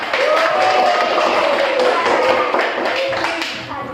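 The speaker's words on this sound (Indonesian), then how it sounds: "Tepuk tangan." Applause from an audience at a teaching performance assessment, sustained dense clapping with a tonal voice or whistle threading over it, steady and fairly loud before easing slightly at the end.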